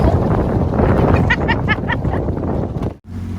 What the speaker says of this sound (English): you're getting a lot of wind from the Gulf.